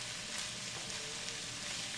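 Fresh cabbage sizzles steadily as it is stirred around in a frying pan, a constant soft crackle and hiss close by with no talking.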